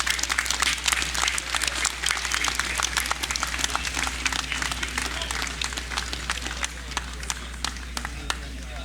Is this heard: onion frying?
no